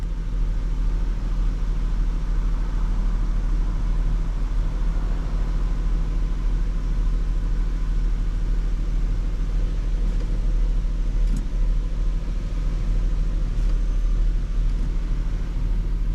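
A 2005 Saturn L300 engine runs steadily while the car is driven, a constant low rumble and road noise heard from inside the cabin with no talk.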